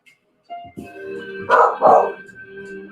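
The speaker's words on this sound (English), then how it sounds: "Have dog, have barks." A dog barks twice loudly at a yoga livestream, the barks rising over a background hum and a few softer sounds nearby.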